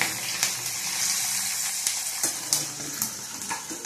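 Tempering seeds with dried and green chilies sizzle in hot oil for mango pulihora, a strong continuous hiss close by, broken by scraping stirs and small crackling pops, with no voices.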